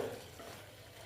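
Okra and sesame seeds stirred in a frying pan, a soft continuous scraping and sizzle, close and quiet, with no voice.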